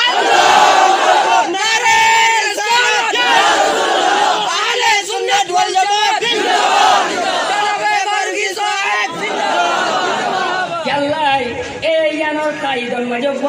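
A large crowd shouts a takbir response at a religious gathering, many voices chanting loudly together in repeated swelling waves throughout.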